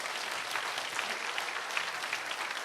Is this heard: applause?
yes